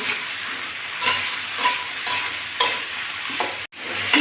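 Okra frying in a pan with salt and turmeric, giving a steady close sizzle, with a few soft stirring scrapes at intervals.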